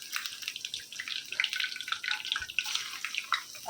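Onions dropped into hot oil with garlic and curry leaves for a Goan coconut fish head curry, giving a steady, close bright sizzle and crackle throughout with no talking.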